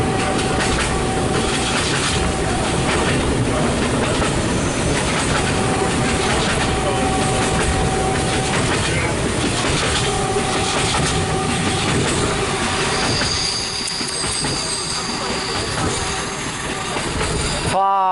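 A regional passenger train on the Timișoara Nord–Peciu Nou line runs loudly over the rails with steady rumbling and clickety-clack, a wheel squeal rising near the end.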